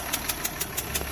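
A car engine runs with an abnormal repetitive ticking, heard as regular metallic taps about every sixth of a second over a steady idle hum, close up.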